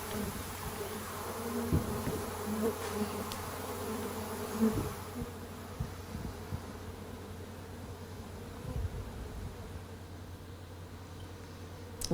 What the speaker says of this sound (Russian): Вот Рой заселяется в колоду.